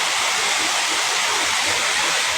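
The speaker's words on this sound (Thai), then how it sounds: "พามาชมบรรยากาศนะครับน้ำตกสาริกา" Sarika waterfall roars with a steady, dense rush of falling water that stays loud and close without a break. The site is busy with visitors, but no voices stand out.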